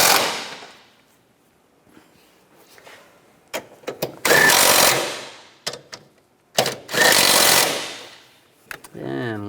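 Valve cover bolts on a BMW X3 being tightened with a power tool, several loud bursts of rapid ratcheting buzz separated by pauses, some short and some longer, heard close up with no talk.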